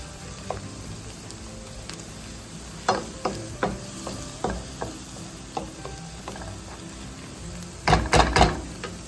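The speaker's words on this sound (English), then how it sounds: "I turned it down a little more because I don't want my onions turning too much color" Onions soften in a pan on turned-down heat, giving a faint, quiet sizzle broken by soft scraping stirs and taps, with a louder cluster of stirring strokes near the end.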